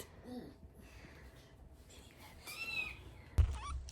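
A new kitten gives a few soft, high meows in a quiet room, followed by a brief bump near the end.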